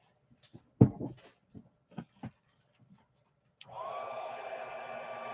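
After a few scattered handling knocks and taps, a hair dryer switches on and blows a steady, close whir over a paper doll's eye during a craft session.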